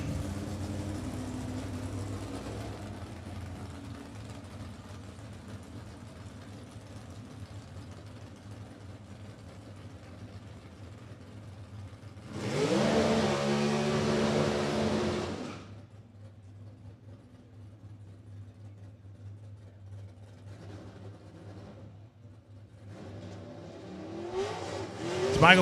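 C dragster drag racing car at a strip, a low engine idle rumbling throughout, broken by a loud roaring rev lasting a few seconds, then idling again before another rising rev at the end.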